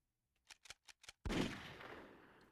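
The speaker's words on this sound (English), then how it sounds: "You hear the gunshots?" Video game gunfire in Sonic Heroes on PS3, four quick sharp shots in a rapid burst followed by a louder booming blast that trails off into a lingering rumble, with no talking.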